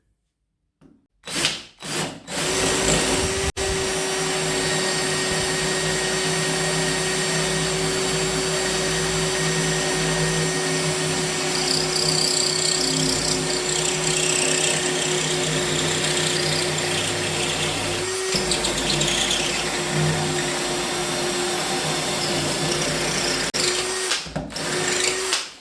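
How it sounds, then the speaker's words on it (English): Parkside PSBSA 20-Li C3 20V cordless hammer drill in drilling mode boring into a soft brick, a steady loud whining motor drone held for about twenty seconds after brief start-up bursts, then stopping. "Now let's try it on a soft brick. Drilling mode."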